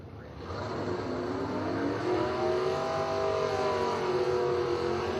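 Drag racing motorcycle launching down the track at the New Year Nationals: after a short hush the engine bursts in loud, then holds a rising, rasping roar that climbs in pitch as it pulls away.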